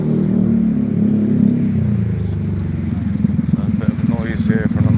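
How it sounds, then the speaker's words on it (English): Motorbikes pass nearby on a street, a loud sustained engine roar that swells and rumbles throughout, with someone talking over it. "bit of noise here from the motorbikes"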